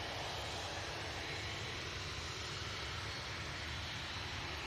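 Emirates A380 airliner engines give a continuous, heavy broadband roar that holds steady and loud throughout, with no talk.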